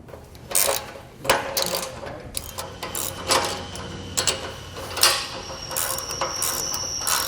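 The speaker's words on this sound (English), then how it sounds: "then we're going to tighten down these bolts on the hangers" Ratchet tightening the bolts on the spring hangers of a Malone EcoLight Sport trailer, with rapid clicking pawl strokes in repeated bursts, close and loud against light background noise.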